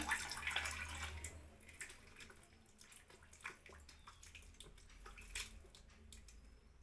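Running water splashes steadily from a tap with a few clinks and rubbing sounds of something being rinsed, close by and without talk.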